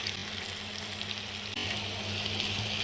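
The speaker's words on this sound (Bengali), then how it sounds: "এই গরম তেলে আমি বেশ কিছুটা পেঁয়াজ কুচি দিয়ে দেবো" Chopped onions and green chillies hitting hot oil in a pan, a dense continuous hiss and crackle that swells slightly halfway through, close and loud with no voices.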